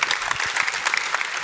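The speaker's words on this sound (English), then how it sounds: "I think we can give a second round of applause because this was really inspiring." An audience at a public science talk applauds after the presentations, a brisk, full round of many hands clapping at close-to-mid distance, busy and even with small bursts throughout.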